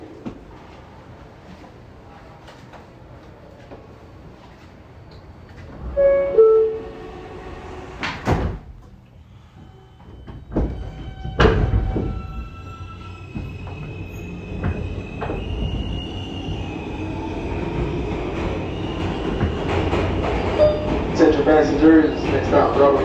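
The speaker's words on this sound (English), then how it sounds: "Stand clear of the closing doors, please." A 2006 R160A Alstom subway train on the F local, recorded with the HVAC off: the doors thump shut with chimes and clunks, then the car pulls away with rising motor whine and rumbling wheels, while a recorded announcement voice plays over it.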